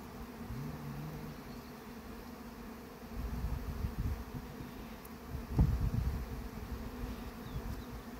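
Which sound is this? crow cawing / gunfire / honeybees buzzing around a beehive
honeybees buzzing around a beehive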